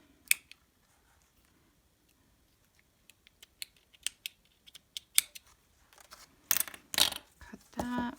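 Scissors snip through paper for an Amazon mailer journal, a series of sharp close cuts and clicks coming irregularly after a quiet start, growing denser toward the end.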